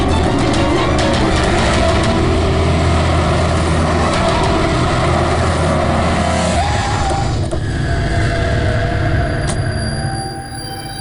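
Vehicle engine roar during a car chase overtaking a taxi on a city road, a loud continuous drone with rumbling low end that holds steady, then eases off near the end.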